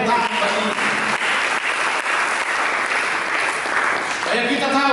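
A church congregation claps loudly and continuously during a sermon, a thick sustained wash of applause, with voices audible briefly at the start and end.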